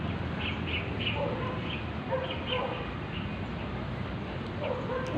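A bird calls outdoors on a hillside climb: faint, short chirps recur every second or so, high and thin above a steady wash of wind or ambient noise, with no clear voices.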